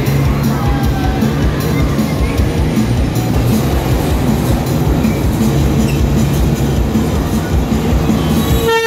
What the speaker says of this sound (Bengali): একটি টানেলের মধ্যে দিয়ে ট্রেন প্রবেশ করছে।